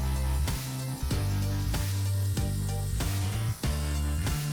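Shrimp sautéing on a hot cooking surface, a steady sizzle broken by regular scraping and stirring strokes, close and fairly loud with no talking.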